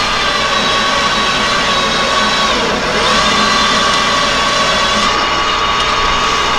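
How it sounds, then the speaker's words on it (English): A small metal lathe drives a taper shank drill about an inch into metal, giving a steady, loud motor hum and grinding whir that holds constant throughout with no talking. "I'm just drilling in there about 1 inch deep"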